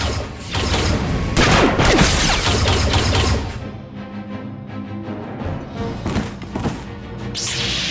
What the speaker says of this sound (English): is that blaster fire?